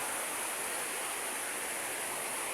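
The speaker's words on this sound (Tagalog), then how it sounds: "Maulan na umaga" Rain falls on a rainy morning as an even, unbroken hiss that fills the space, steady throughout with no voices.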